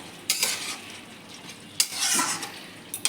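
Mourala fish curry with vegetables is stirred in a pan, a few distinct scraping strokes against a gentle sizzle, close and alone.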